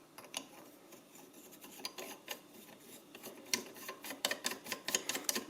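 A plastic decorative cap is hand-screwed back onto a Delta single-handle kitchen faucet, giving faint, close scraping and rubbing with small clicky ticks that quicken toward the end in an otherwise quiet room.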